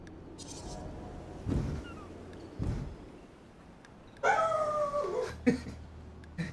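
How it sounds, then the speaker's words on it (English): A dog that is feeling unwell barks in a few short, separate bursts, then lets out a longer, cracking, whining yelp near the end. It is fairly close and stands out against a quiet indoor background. "A lot of barking today."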